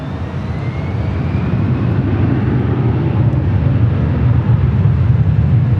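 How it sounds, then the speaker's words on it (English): A China Southern Cargo Boeing 777 freighter inbound from Anchorage flies low overhead at LAX, giving a loud, steady, broadband jet roar with a deep rumble that holds throughout with no talk. "the China Southern Cargo flight 2537 coming in from Anchorage, the 777 freighter flying over us here at the H"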